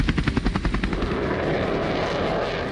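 An Apache helicopter roars close by, its rotor pounding in rapid rhythmic thumps that merge into a dense, loud continuous engine roar.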